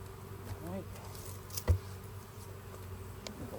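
Honey bees buzzing around an open hive during a honey harvest, a steady close drone of many insects with a soft bump partway through, faint voices in the background.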